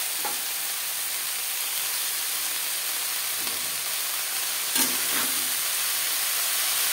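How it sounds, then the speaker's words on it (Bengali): Chopped note greens tossed into a pan of fried onions hiss and sizzle steadily, with a few louder bursts and scraping stirs as they hit the hot oil; close and constant, with no talking. "এই পর্যায়ে দিয়ে দেব টুকরো করে কেটে নেওয়া নোটের শাক।"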